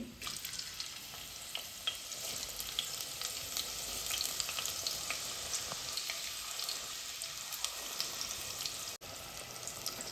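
Two large onions, thinly sliced lengthwise, frying in hot oil in a clay pot: a dense, continuous close sizzle with faint crackles, steady and unbroken, with no talking.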